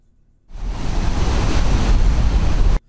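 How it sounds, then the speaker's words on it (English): Roaring ocean sound effect of steady, dense surf rushing loudly and evenly, with no talk over it, cutting in abruptly and stopping just as suddenly after a little over two seconds. "Now let's say that roaring ocean is still a little too loud."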